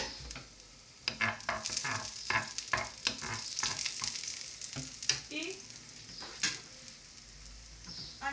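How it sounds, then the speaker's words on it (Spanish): Garlic fries in a pan with a bright sizzling hiss, punctuated by repeated stirring clatters and scrapes at an uneven rhythm, close up with no talk. "y echamos los dientes de ajo, bueno, el diente de ajo, lo sofreímos"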